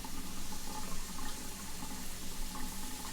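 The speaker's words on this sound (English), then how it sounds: "Now, get everything rinsed off over there." Running tap water rinses dishes in a home kitchen sink, a steady broadband splashing wash that stays even and close throughout with no voices.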